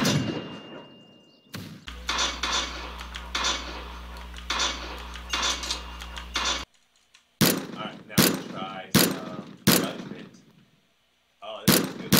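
Gunshots from the PC lightgun game BangBang PewPew, a series of sharp, loud bursts, several in quick succession, with a sustained low tone and game sounds in between and short gaps of silence.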